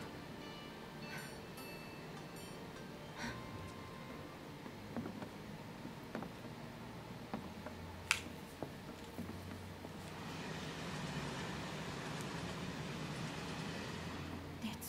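A train rolls along in the video game Final Fantasy VII Remake, giving a steady, faint rumble with scattered light clicks and metallic ticks over about fifteen seconds.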